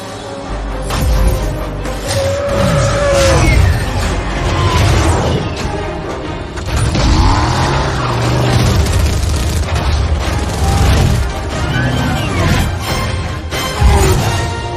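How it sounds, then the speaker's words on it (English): Archer missile strikes hit during a Halo battle, a dense run of loud booms and rumbling explosions that roll on one after another with crashing debris throughout. "Archer missiles inbound."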